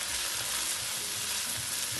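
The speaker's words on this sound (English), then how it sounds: "Just saute the onion." Onions sautéing in a pan for shrimp curry, a dense, steady hiss of frying that fills the clip, loud and close with no stirring strokes or voices.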